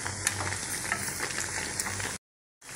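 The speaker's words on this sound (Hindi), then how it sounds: "अब एक एक करके सभी पकौड़ों को यहाँ पे हम पलट रहे हैं और पलट करके दूसरे साइड से भी हम पकौड़ों को फ्राई होने देंगे" Potato pakoras sizzle and crackle steadily in hot oil while being turned over in the pan, a close, continuous frying hiss that cuts to silence near the end, then resumes briefly.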